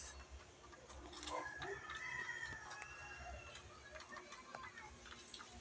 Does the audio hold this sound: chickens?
yes